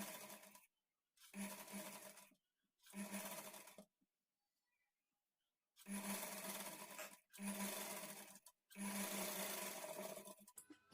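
A sewing machine stitches blouse sleeves in six separate bursts of close, buzzing stitching broken by short silent pauses, with no voices.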